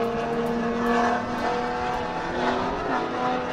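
A JS-tuned Camaro ZL1 race car at Circuit of the Americas, heard as a steady, moderately loud engine drone whose pitch shifts slowly as the car runs on the track, with no voices.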